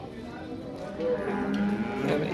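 Cows at the Modnimb cattle market, Khillar-type stock, give a low moo that swells midway through the clip over a steady hum of market noise.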